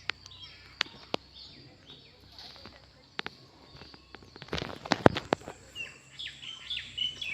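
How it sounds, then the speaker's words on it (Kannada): Birds in a mango orchard in the morning chirp in scattered sharp, fairly distant calls that grow busier toward the end, with soft rustling and footstep-like sounds nearby. "ಹಕ್ಕಿಗಳ ಗಲಾಟೆ ತುಂಬ ಜಾಸ್ತಿ."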